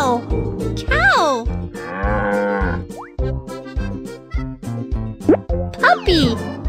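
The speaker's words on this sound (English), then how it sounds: "Cow, cow." A cartoon cow moos amid bright children's music with plops and boings, the call rising and falling over a steady bouncy beat, with a voice chiming in.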